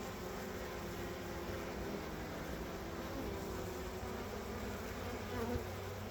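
Several honeybees buzz close around a beekeeper's face during a gaster swarm rescue, a steady, dense insect drone that holds at an even level throughout with no talk.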